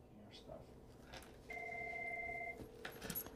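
Telephone ringing faintly in an office setting, a single steady electronic ring lasting about a second amid quiet background murmur.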